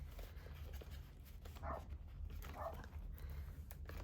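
A dog barks outdoors at a distance, two muffled barks standing out faintly against a steady background hum, with no voices.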